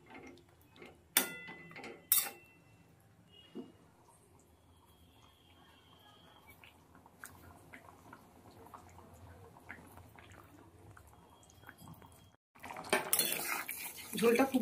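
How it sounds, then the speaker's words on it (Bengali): Tangra fish curry stirred in a cooking pot, with a few sharp metallic clinks of utensil on pot early on, faint scraping and light clatter, then a louder burst of bubbling or sizzling near the end. "আলতো করে এবার নেড়ে দিয়ে একটু ফুটিয়ে নেব।"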